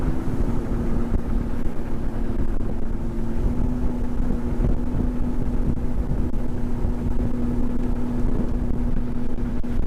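A Vexus VX20 bass boat's outboard engine roars and holds a strong, steady drone during a hole shot, with water rush and wind buffeting the microphone. The sound stays loud and continuous throughout.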